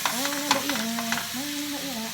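Meatballs frying in a pan while being stirred: a steady, loud sizzle with scraping strokes from the spoon running through it, and a whining tone rising and falling in the background, with no voices.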